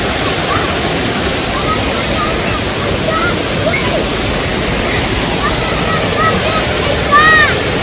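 Waterfall in Atlanta roars as a loud, steady broadband rush filling the whole stretch, with faint voices and a brief bird-like chirp over the constant torrent.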